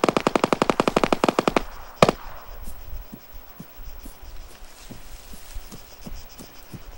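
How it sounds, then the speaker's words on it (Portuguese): Rapid automatic gunfire from the military shooter game Arma 3 in battle royale mode: a loud sustained burst, one sharp shot, then scattered faint distant shots. "me atirando ali da frente"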